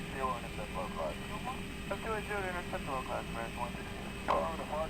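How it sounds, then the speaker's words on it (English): Air traffic control radio chatter in the X-Plane 9 flight simulator, a steady stream of clipped, tinny transmissions over a constant low cockpit engine hum from a Continental 737. "this ATC chatter has been around since X-Plane 5"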